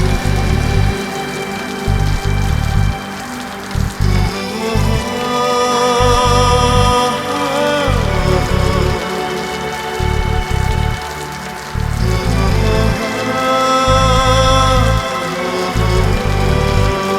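Rain falls steadily throughout, a dense hiss of drops on a surface with a strong low rumble and no voices, loud and close.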